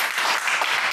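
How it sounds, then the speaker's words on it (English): Dense studio audience applause welcoming a guest at a live Edinburgh Festival programme, a brief loud wash of clapping with no gaps. "Please give a massive round of applause for Dave Alnwick."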